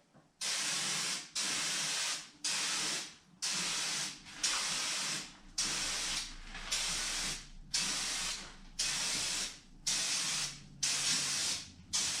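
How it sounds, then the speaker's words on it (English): Rust-Oleum Turbo spray paint hissing onto a rusty car hood in about eleven short, even bursts with brief pauses between, close and steady, with no talking. "I was trying to do overlap and also stopping and starting spraying off the hood"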